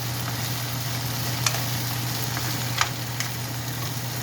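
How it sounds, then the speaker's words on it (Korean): Thin-sliced pork belly stir-frying with bok choy in a pan, a steady close sizzle throughout with an underlying hum and a few faint ticks of stirring. "백대 삼겹살 넣고 볶아요"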